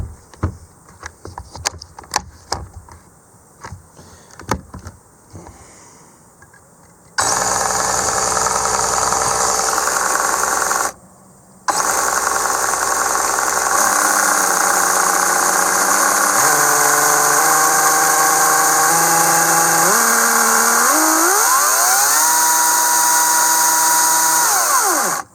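EGO CS1800 battery chainsaw revving under variable trigger control, loud and close, its whine rising and falling in steps after some handling clicks, with a brief cut-off midway.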